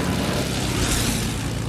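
An airplane flying in a video game gives a steady, loud propeller-engine drone that holds evenly for under two seconds, with no talking over it.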